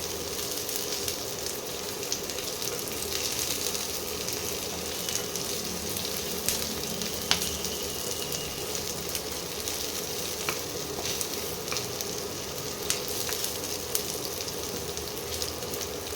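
Steady, gentle sizzling of onions frying lightly in a pan, a continuous crackle with occasional small pops and faint clinks.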